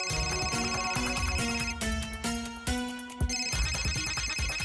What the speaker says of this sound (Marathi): अम्माचा फोन